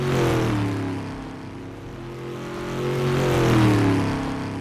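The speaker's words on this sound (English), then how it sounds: "Now the engine sound feels much closer to how it would behave in the real world." Simulated car engine from a game-ready vehicle system built in Unreal Engine 5, a steady loud drone with layered harmonics that dips slightly, then climbs in pitch as if revving up before easing off, with no voices.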